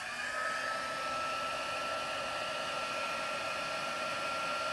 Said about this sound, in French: Et je vais prendre mon petit fer embossé.